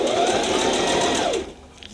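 A sewing machine runs steadily while stitching an adjustable strap, a fast even mechanical whir close by that slows and stops near the end, followed by a few faint clicks.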